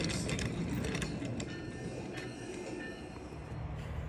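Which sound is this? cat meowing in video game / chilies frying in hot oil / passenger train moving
passenger train moving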